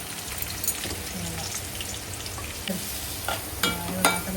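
Bay leaf, cinnamon and onion sizzle quietly in hot oil for a tempering, a soft continuous hiss with a few scattered stirring knocks close by.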